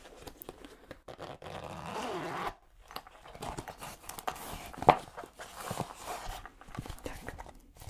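A school bag zipper is pulled open close up in a quiet indoor setting, giving a few scratchy, uneven bursts with short pauses between them.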